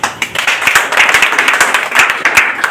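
Students in an English class clap for a classmate, a lively run of close, sharp hand claps in an uneven quick rhythm lasting a few seconds.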